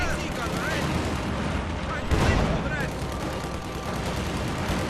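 Battle gunfire in Company of Heroes 2 with a Soviet T-34 tank engaged: dense, continuous crackling small-arms fire and distant rumbles, one heavier blast partway through, with game voices calling out over it.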